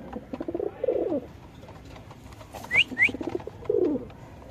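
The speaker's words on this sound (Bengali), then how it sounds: "কবুতর ডাকটা দেখা দিচ্ছি আপনাদের।" A pet pigeon coos in soft, low, throaty phrases that come and go over a few seconds, with a brief higher note in between, close by against a light background hum.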